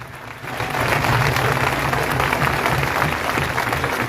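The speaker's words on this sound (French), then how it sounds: "Donc on peut les applaudir," A crowd at a public gathering breaks into applause for local farmers, starting softly and quickly swelling into sustained, fairly loud clapping that holds steady without talk.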